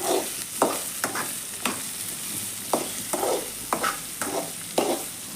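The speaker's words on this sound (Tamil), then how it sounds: "எண்ணெயிலே வதங்கட்டேன்." Onions sautéing in hot oil in a pan for an egg stir-fry, with a steady sizzle and a utensil stirring and scraping in repeated strokes about once a second, close and moderately loud.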